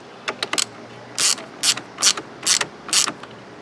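A ratchet wrench with a 10mm socket snugs up pinch bolts on a Chevy Silverado battery terminal, giving a few quick clicks and then five louder ratcheting bursts in an even rhythm, close and crisp over quiet garage background.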